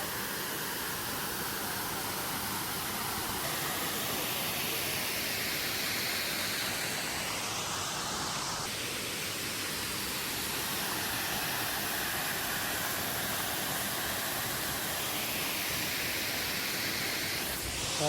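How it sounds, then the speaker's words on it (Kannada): Dhab Dhabi falls roars as a dense, steady wash of falling water, broad and unbroken, heard from fairly near without voices. "ಇನ್ನೊಂದು ಫಾಲ್ಸ್ ಸಿಕ್ತು ಬೈ."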